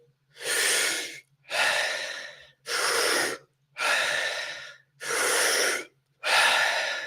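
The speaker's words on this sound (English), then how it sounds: "Deep breaths fully in and let it go." Six slow, deep breaths in and out during a guided morning breathwork session, each one a long, close, airy rush evenly spaced with brief silent pauses between them.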